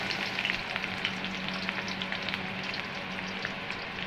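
Onion fries in a pan while bitter gourd and shrimp curry is cooked, a dense steady sizzle with faint crackles and light stirring, close and alone without speech.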